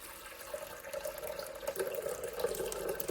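Hot water pours steadily into a blender, a continuous trickling splash that grows a little fuller as it goes.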